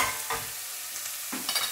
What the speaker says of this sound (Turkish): soğanımla arkadaşlar kırmızı biberimi şöylece tencereme koydum